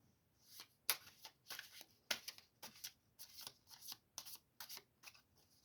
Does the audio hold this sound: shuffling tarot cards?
yes